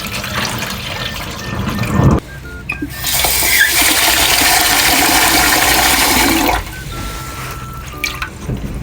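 Tap water running and splashing into a pot of rice being measured for cooking, a steady loud rushing pour lasting several seconds with quieter trickles and drips before and after.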